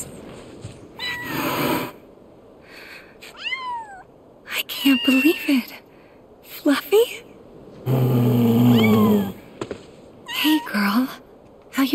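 Kittens meow in Final Fantasy VII Rebirth, several short rising mewing calls spread through the scene between bursts of game sound, with voices talking around them.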